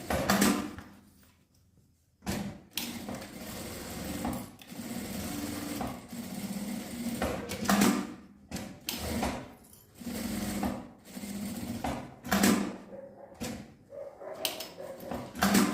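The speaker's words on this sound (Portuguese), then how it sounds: "passar a costura com um pé de máquina pra gente finalizar aqui" A sewing machine stitching with a presser foot to finish a small handmade keepsake: repeated bursts of fast motor whirring broken by short pauses, close up, with a dog barking and whimpering faintly at times.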